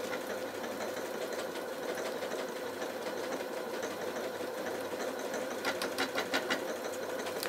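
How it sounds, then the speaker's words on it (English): A Janome Atelier 9 sewing machine stitching steadily at mid speed, a continuous close mechanical whir with a rapid needle rhythm that picks up slightly near the end. "So you're just going to pop that down and again start sewing."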